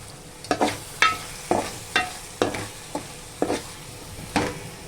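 Curry leaves frying in a pan of dry fish curry give off a steady sizzle, with about nine distinct spatula scrapes at a regular stirring rhythm close by.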